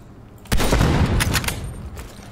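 Burst of gunfire from the video game Call of Duty Black Ops Cold War, with sniper rifle shots in a loud sharp volley and a few trailing cracks, heard alone with no talk.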